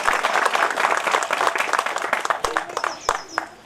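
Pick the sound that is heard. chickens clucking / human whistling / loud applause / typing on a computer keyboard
loud applause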